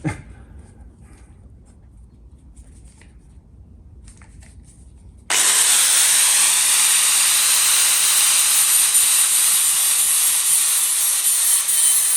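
A power tool grinding a thin metal bracket, starting abruptly after a quiet stretch and holding a loud, steady, harsh hiss to the end.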